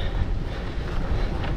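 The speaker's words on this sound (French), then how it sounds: "Ah c'est dur hein, avec le vent." Strong wind buffets the microphone during an uphill climb on an off-road bikepacking route, a loud, continuous low rumble with no speech.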